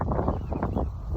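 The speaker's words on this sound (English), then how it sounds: "It's super windy." Gusty wind buffets the microphone in a steady low rumble beside polder canals in the Netherlands, loud and close, with no voices.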